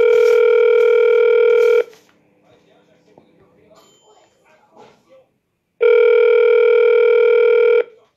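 A telephone rings on an outgoing call, two long loud electronic ring bursts separated by a few seconds of near silence with faint background noise.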